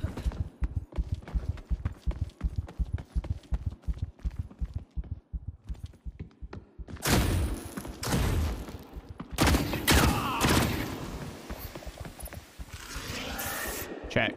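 Gunfire in the video game The Cycle Frontier: a long run of sharp, evenly spaced shots at moderate level, followed by denser overlapping bursts and bangs that grow louder and busier toward the end.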